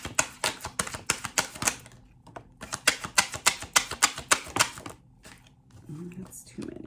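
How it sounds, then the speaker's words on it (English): Tarot cards are pulled and shuffled from a deck in quick crisp flicks and snaps, a dense run of sharp papery clicks close to the microphone, pausing briefly before another burst, with a quiet voice near the end. "I'm going to pull a couple more cards."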